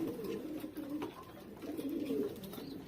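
Pigeons being hand-fed in a home loft coo softly and repeatedly, a low rolling murmur that continues throughout, fairly close but quiet.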